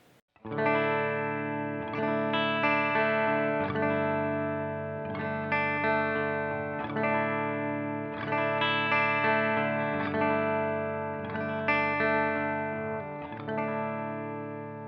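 Electric guitar played through a Strymon Iridium amp-modeling pedal emulating a Fender Deluxe Reverb, clean and shimmery, with strummed chords ringing out in a steady rhythm, loud and close with no talking.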